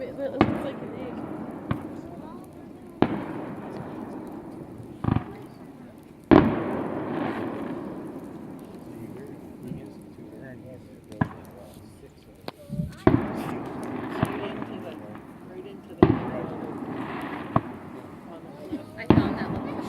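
Backyard fireworks pop and bang at irregular intervals over about twenty seconds, single reports mixed with short crackling bursts, with voices talking in the background between and over the blasts.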